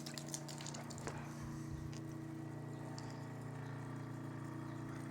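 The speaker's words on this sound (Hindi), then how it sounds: "ये पंप चल गया है, प्रेशर बना रहा है," A 48 volt DC water pump running on solar power hums steadily and close, drawing water from a drum tank and building pressure, with a continuous mechanical drone and rushing flow throughout and no talk.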